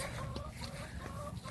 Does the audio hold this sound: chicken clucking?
yes